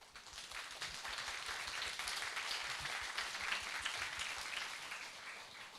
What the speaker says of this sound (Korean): 여러분 감사의 박수를 좀 부탁드리겠습니다